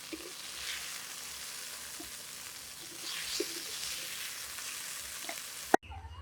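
Maya fish shallow-frying in hot oil gives a steady soft sizzle throughout, with faint scattered crackles and a sharp knock near the end.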